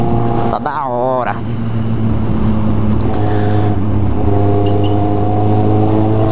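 A small motorcycle idles and revs loudly nearby on a São Paulo street, a steady buzzing engine drone with a quick rising rev early on, while someone talks over it.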